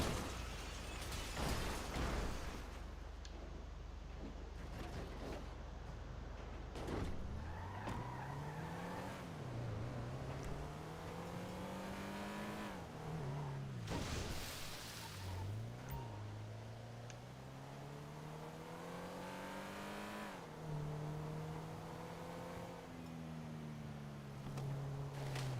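A car in GTA Online revs and tumbles end over end, engine pitch repeatedly rising and falling with crashing thumps, bursts and skids, loud and close with no talk.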